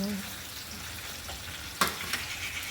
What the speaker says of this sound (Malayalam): അപ്പോൾ നമ്മൾ ഇതിവിടെ കിടന്ന് ഷാലോ ഫ്രൈ ആവട്ടെ.